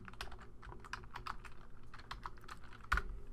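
Fingers type on a computer keyboard in a quiet room, tapping out a quick, uneven run of close, crisp keystrokes. One slightly heavier press comes near the end.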